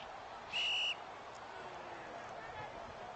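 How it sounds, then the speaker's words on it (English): A referee's whistle sounds once in a loud, sharp, high blast lasting under half a second during a USC Trojans vs Baylor Bears football game, set against crowd noise and a commentator talking. "So whistle is going to be blown."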